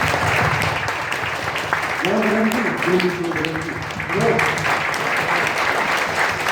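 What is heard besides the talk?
congregation applauding in church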